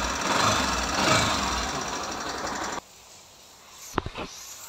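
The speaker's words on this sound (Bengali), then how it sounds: "তো এই তো বাইকের সাউন্ড শুনলেন" A faulty Bajaj Pulsar NS 160 motorcycle engine runs with a steady, rough mechanical drone for a few seconds, then cuts off abruptly, leaving a quiet room broken by a couple of sharp clicks.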